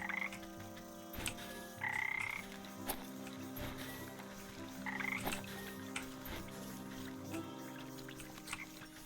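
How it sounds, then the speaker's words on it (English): Frogs croak in a swampy area of the video game Wytchwood. Several repeated croaks and chirrups sound over a quiet, steady ambient drone with soft ticking and trickling water. "A lot of frogs here."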